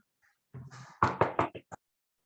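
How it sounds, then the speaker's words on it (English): Heavy knocking on a door: a short muffled sound, then about five sharp, loud raps in quick, slightly uneven succession. The raps are close and ring out alone before silence. "Suddenly, there was a loud knock at the door."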